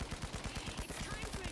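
Rapid automatic gunfire from the video game The Finals rattles in a fast, even burst, fairly faint and continuous throughout.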